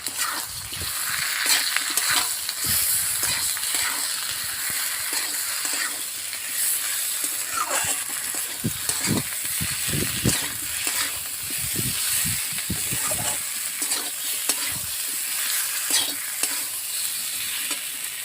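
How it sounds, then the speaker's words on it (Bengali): Ginger, cumin, garlic and dried chillies sauté in a pan for an egg curry, giving a steady close sizzle with repeated scraping stirs and occasional spatula knocks throughout. "আদা, জিরে, রসুন আর শুকনো লঙ্কা এবার আমি ভালো করে কষে দেবো।"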